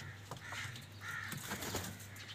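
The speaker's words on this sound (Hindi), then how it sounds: "ये हो गए जी चिड़ियाँ तोते" Sparrows and parrots in a home aviary chatter and squawk in several overlapping calls over a steady background hum, fairly close and continuous, with no talking.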